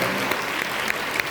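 An audience at a celebrity meet-and-greet applauds a singer-actor with dense, continuous clapping and a few sharper individual claps standing out.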